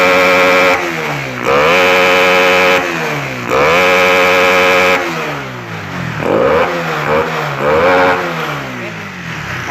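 A Honda CB150R motorcycle, previously brought in for high fuel use and sputtering, revs up sharply in several loud close bursts, each climbing and falling back to idle, with a few shorter blips at the end.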